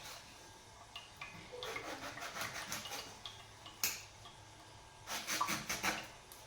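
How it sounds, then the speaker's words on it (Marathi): A knife cuts sour mangoes for pickle, making faint, close scraping and rasping strokes in irregular bursts, with a sharper chop now and then. "तर चला आता हे आपण कापून घेऊया चिरून."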